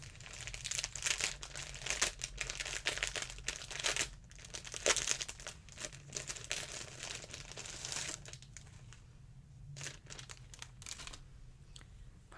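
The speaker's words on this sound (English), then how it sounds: "Sorry for the crinkling." Plastic packaging crinkles in loud, close bursts that come thick and fast at first, then thin out into scattered crackles.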